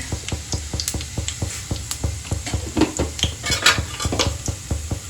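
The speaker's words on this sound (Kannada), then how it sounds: "1-2 ಸ್ಪೂನ್ ಅಷ್ಟು ಜೀರಿಗೆ ಹಾಕ್ತಾ ಇದ್ದೀನಿ." Cumin seeds dropped into hot sunflower oil in a home kitchen pan for jeera rice, giving close, rhythmic spoon scrapes and clinks over a soft sizzle and fry, with no talking.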